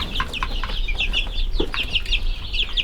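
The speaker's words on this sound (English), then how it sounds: "I named another chicken." Chickens cluck in quick repeated bursts, a steady chatter of short clucks from nearby birds over low outdoor background noise, with no voices.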